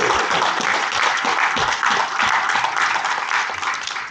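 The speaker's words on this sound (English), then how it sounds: "please give a round of applause to beverage expert of MONIN Middle East, Mr. Nana Sachet" Audience applause at a MONIN Day 2025 beverage event in the Middle East, a dense, steady wash of many hands clapping that holds loud for about four seconds before easing slightly at the end.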